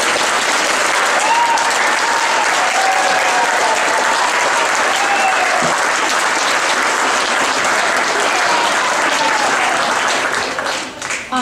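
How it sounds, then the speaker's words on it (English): A gym full of parents and audience members applauds grade 1 musical performers, loud sustained clapping with crowd noise and a few faint voices, tapering slightly at the very end. "Let's give them one more round of applause."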